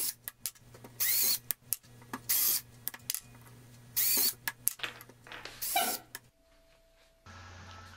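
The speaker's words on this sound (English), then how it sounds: "I'm using a 3/16 inch drill bit for these holes" A 3/16 inch bit drills holes in pipe caps for aquaponics grow towers, heard as several short, loud bursts of whining drilling separated by quieter pauses and handling noise.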